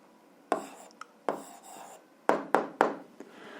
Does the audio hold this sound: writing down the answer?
yes